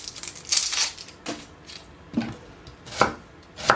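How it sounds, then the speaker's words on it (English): Chopped vegetables, including leeks and onions, are tossed into a small dish in a series of about six crisp, crunchy bursts with short pauses between them. "So I'm just going to chuck all the veggies into this little dish here."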